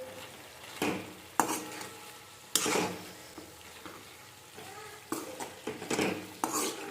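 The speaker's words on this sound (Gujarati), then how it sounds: "હવે આપણે આને મસ્ત મજાનું મિક્સ કરી દઈએ" Pasta with masala is stirred in a pan, the spoon scraping and clacking against the metal in several bursts over a low sizzle, close and moderately quiet.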